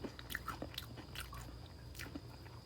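Crisp air-fried food being bitten and chewed up close, with several sharp crunches, mostly in the first part, over quiet background noise.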